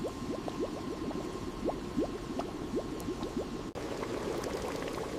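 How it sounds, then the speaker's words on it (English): Papaya jelly at a rolling boil in a massive factory batch of thousands of liters: dense, steady bubbling and popping continues throughout, with no talking. "Boiled in massive batches, thousands of liters at once. Rolling boil, precision heat every single batch."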